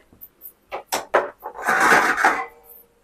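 A pan set down on a kitchen stove, heard as a string of close, sharp metallic knocks and clatters followed by a longer scraping rub of metal, with no talking.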